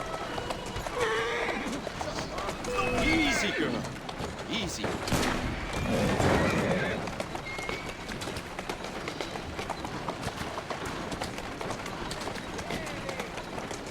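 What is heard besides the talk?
horse galloping in a video game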